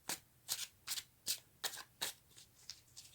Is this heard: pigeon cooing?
no